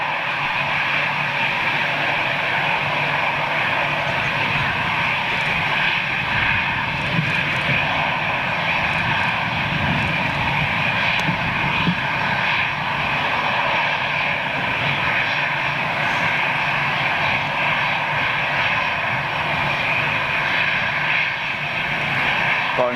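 Airliner jet engines at Manchester Airport roar steadily at high power during takeoff, a dense, loud, continuous rumble and whine from fairly close by, with no voices.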